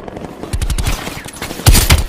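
Rapid automatic gunfire rattles loud and close in a Call of Duty Black Ops Cold War firefight, with bursts of shots and a heavier blast near the end.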